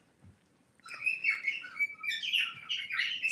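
Pet birds chirp and tweet indoors in a quick, busy stream of bright calls that starts after a brief hush and continues close by.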